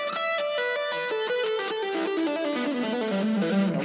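Distorted electric guitar plays a fast pentatonic scale sequence, a steady stream of evenly picked notes descending in pitch, loud and sustained with no pauses or voices.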